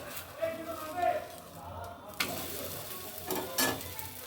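A methi paratha fries in a little oil, sending up a soft, close sizzle with a few brief scraping stirs while a person talks over it.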